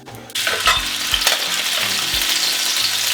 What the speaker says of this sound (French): La poêle est chaude. Les hamburgers on les voilà.